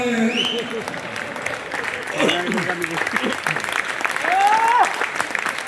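An audience at Janta Inter College in Rudrapur applauds the visiting speaker, a loud, steady burst of clapping throughout, with voices and cheering mixed in.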